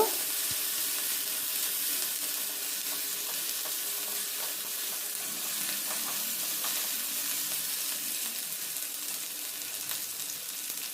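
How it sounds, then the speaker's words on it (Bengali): Ginger garlic paste frying in a little oil in a pan, a steady, soft hiss and sizzle with faint crackles running unbroken throughout, no voices. "আদা রসুন পেস্টটাকেও আমি একটুখানি তেলের সাথে ভেজে নেব"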